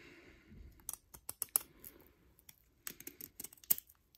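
Plastigage strip being snipped for a rod bearing check on a Honda K24/K20 engine: a run of sharp, dry clicking snips and crinkles, close up, in quick irregular bursts with pauses between them, no talk.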